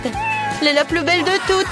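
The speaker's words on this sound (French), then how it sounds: "C'est mon chat" Cartoon cat meowing in short, pitch-bending calls, close and clear, mixed with a woman's French speech in a home setting.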